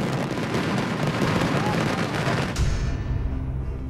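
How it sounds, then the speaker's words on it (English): Daytime fireworks burst in a loud, dense barrage of overlapping booms and crackles that rumbles on continuously, then cuts off sharply, leaving a low lingering rumble. "Daytime pyro is an assault on the ears."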